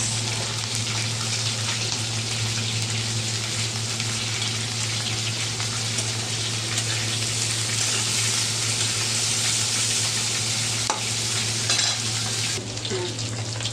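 Garlic and onion fry in oil in a pan with a steady, loud sizzle that keeps going without a break, and no voice is heard.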